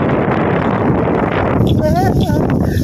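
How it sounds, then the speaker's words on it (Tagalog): Loud, blustery winter wind in Finland buffets the microphone in a constant low roar, with a person's voice rising over it near the end. "lalong lumalakas ang hangin."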